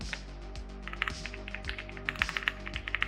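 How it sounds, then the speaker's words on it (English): Fingers tapping on a stiff computer keyboard, a run of irregular clicky keystrokes, some faster bursts and occasional heavier presses, close and alone without talk. "This keyboard's hard to type on."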